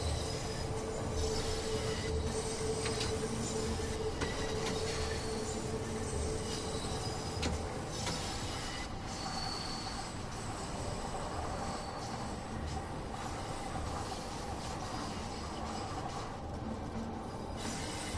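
A high-speed train in the Train Sim World 2 game rushes past as a steady, loud rumble of wheels on rail with faint squealing tones, continuous throughout.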